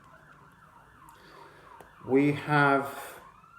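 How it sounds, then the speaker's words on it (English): A siren wails outside with a faint, repeating rise-and-fall tone, heard before and then under a person speaking close by indoors. "here comes the siren"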